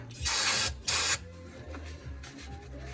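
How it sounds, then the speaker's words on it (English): Brake cleaner sprayed from an aerosol can onto a forklift plate during ignition repair work, two loud, close hissing bursts of about half a second each, followed by quiet background hum. "Good old brake cleaner."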